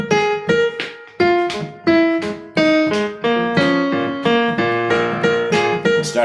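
A piano plays a descending blues-scale lick. Struck notes mostly come straight down from the top of the scale in a groovy rhythm, clear and close with no talking.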